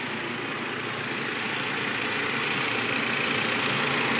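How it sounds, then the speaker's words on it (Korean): BMW G30 530i with a direct-injection engine idling nearby, a steady, dense mechanical clatter and hum holding constant throughout with no talk. "와, 이도 엔진이 직분사라서 굉장히 시끄럽구나."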